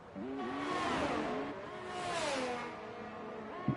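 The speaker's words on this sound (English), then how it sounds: "Once again then the Alfa Romeos slipstreaming one another." Alfa Romeo Formula 1 race cars slipstreaming in an F1 video game at Australia: loud, continuous engine whine from two cars, their overlapping tones rising and falling with gear changes, no voices.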